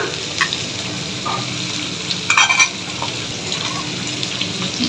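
Chopped onions frying in a pan give a steady, close broadband sizzle with a few brief clinks and stirring touches, no voices.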